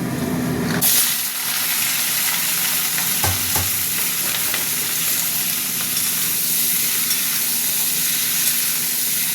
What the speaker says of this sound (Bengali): সবজিগুলো একটু ভাজা ভাজা করবো